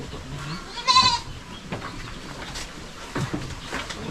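Goats on a farm where many kids have just been born, with a short bleat standing out near the start, then scattered quieter animal calls and rustling in the pen.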